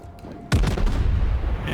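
A heavy naval gun salvo in World of Warships booms suddenly and loud, its deep rumble rolling on and sustaining after the initial blast.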